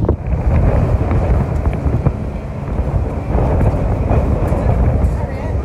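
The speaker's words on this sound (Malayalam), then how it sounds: "നല്ല കാറ്റുണ്ട്" Strong wind buffets the microphone at the seaside in Deal, Kent, a loud, continuous low roar that rises and falls without letup and fills the whole scene.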